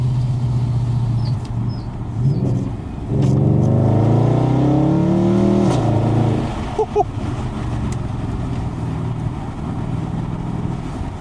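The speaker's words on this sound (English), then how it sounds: "it makes nice pops on the upshift" Audi S5 with a 4.2 V8 accelerates hard, its engine note climbing through the revs and then dropping at an upshift with a few sharp exhaust pops. It is heard close from inside the car over a steady road drone.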